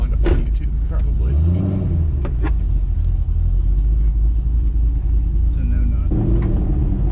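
A 2007 Ford GT500 with cams, Kooks headers, an X-pipe and stock mufflers idles with a deep steady rumble and a brief blip of revving, while people talk close by over the engine.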